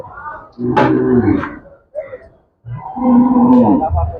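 Close, loud cattle moos at a livestock market in Dhaka, two long lowing calls separated by a short pause, with a brief sound between them.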